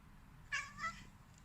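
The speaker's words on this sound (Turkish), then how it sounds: "ya anne diyen kedi" A cat gives a short two-part meow that sounds like it is saying mom, faint against a quiet room with low background hum.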